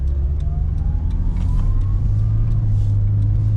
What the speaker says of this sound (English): Transmission shifts mighty fast. Smooth. Very, very smooth.